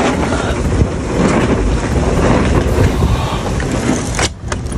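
Strong, continuous typhoon wind roars and buffets the microphone, a dense rushing noise with gusts and no voices.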